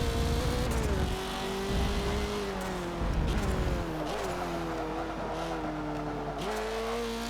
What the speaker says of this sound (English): You can hear the tyres chatter away, which means on the limit of their grip.